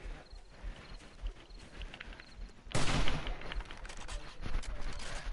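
Gunfire in the video game 7 Days to Die, a rapid clatter of shots that starts abruptly partway through and continues in irregular bursts over quieter game noise.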